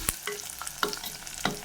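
Onions sautéing and being stirred in a pan for a garlic curry, quiet close spatula scrapes and taps in an irregular rhythm over a soft frying hiss.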